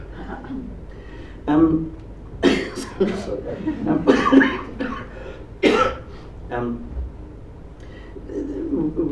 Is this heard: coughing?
yes